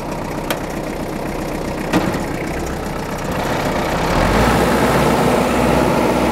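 Engine of a Kubota GT-5 Japanese mini tractor idles steadily nearby with the power take-off shaft engaged, a continuous low rumble with a couple of sharp clicks and a gradual rise in loudness toward the end.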